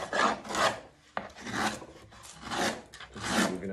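Hand carving strokes on a wooden octave mandolin soundboard, originally about 3/4 inch thick: repeated rasping, scraping strokes in a steady rhythm, close and fairly loud, with a sharp knock between strokes.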